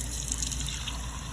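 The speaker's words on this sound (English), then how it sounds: "that's how much water I'm gonna put in" Water pours steadily into a regular cooking pot holding a cup of white rice, a continuous close trickling splash with no pauses and no voices.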